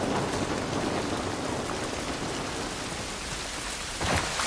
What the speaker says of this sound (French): Cette pluie ne va pas nous aider.